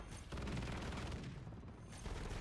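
Sustained automatic fire from an M4 rifle in the video game Modern Warfare 3, a rapid unbroken stream of close, loud shots lasting a couple of seconds with a brief dip partway through.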